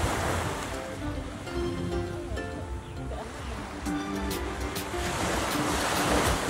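Ocean waves wash in at rocky Mero Beach in Dominica, a continuous surf roar with swelling breaks and wind buffeting the microphone, loud and close.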